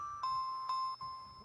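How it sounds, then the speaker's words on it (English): Bright bell strikes ring out as a Christmas instrument sound, two clear dings about half a second apart with a sustained metallic tone lingering between and after them, close and fairly soft, without talking. "We got to have bells"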